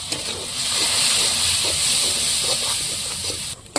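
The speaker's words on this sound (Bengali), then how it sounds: "গুঁড়ো মশলাটা দিয়ে ভালো করে কষিয়ে নেওয়ার জন্য একটু জল দিয়ে দেব।" Water poured onto ground spices frying in a pan sets off a loud, close, continuous hiss that holds steady for several seconds before cutting off abruptly.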